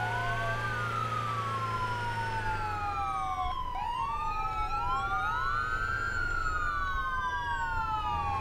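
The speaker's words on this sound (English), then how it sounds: "That was an ambulance, I think." An ambulance siren in a video game wails and yelps in rising and falling sweeps as it passes close by, loud and steady over engine rumble.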